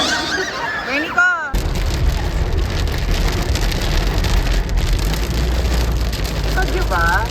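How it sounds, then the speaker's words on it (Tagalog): Heavy rain from a localized thunderstorm drums loudly and steadily on a surface, with voices talking briefly at the start and again near the end. "Localized thunderstorm."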